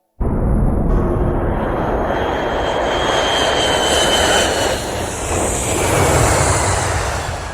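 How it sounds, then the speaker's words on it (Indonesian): Passenger airplane engines in flight give a loud, steady roaring drone that holds constant from start to finish, with no voices over it. "Sekarang, pesawat sudah tiba dengan selamat di Italia."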